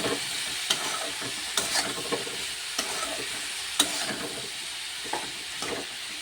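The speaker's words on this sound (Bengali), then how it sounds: "গুঁড়ো লঙ্কা দিয়ে দিলাম, একসঙ্গে নাড়ব" Chilli powder being stirred into a sizzling pan of oil with aubergine, salt and turmeric, a soft continuous fry hiss broken by regular scraping strokes of a spoon against the pan, close and without speech.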